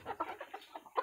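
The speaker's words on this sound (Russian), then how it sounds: "у меня тут уже петухи нервничают" Roosters and chickens cluck in short, quiet bursts, several soft calls in quick succession nearby.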